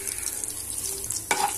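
Cumin and garlic cloves frying in oil left over from frying chicken for chicken tikka curry, a low steady sizzle with a sharper clatter near the end, close and without talk.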